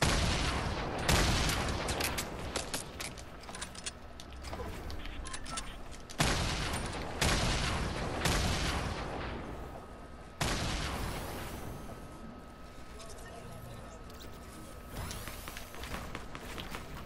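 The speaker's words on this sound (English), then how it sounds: "There's a guy shooting at you from the mountain." Fortnite Battle Royale gunfire, repeated sharp shots and bursts in clusters with short gaps, fairly loud and close, with faint background game sounds.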